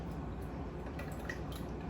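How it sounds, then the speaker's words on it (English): Calendula-infused oil seeps slowly through a coffee filter, giving faint, soft drips over a low, steady background hiss. "it's starting to drip through"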